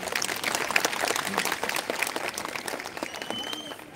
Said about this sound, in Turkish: Bu yakışıklılığa, bu karizmaya bir alkış rica ediyorum.